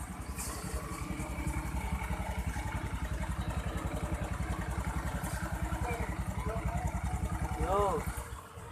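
A Honda Beat FI scooter engine idles steadily with a fast, even putter throughout, loud and close, with a short chirp near the end.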